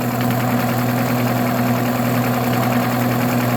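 An Oldsmobile 4-4-2 W-30 engine idles at about 620 RPM, a steady, even low hum with a constant throb, close and alone.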